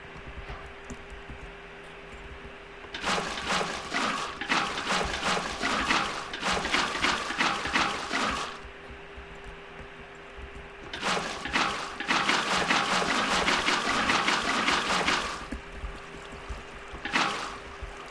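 Water rushing in Minecraft flood, bursts of splashing flow that start, stop and restart in several loud stretches over a steady low hum.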